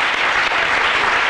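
An audience applauds a guest named Prisca at a Claude François tribute gathering, with dense, steady clapping that fills the whole moment at close range.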